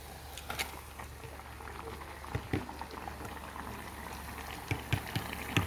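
Snail stew with tomato paste, sliced onions and blended pepper mix bubbles and sizzles in a pot, a soft steady frying crackle with scattered small pops and spatters throughout, fairly quiet.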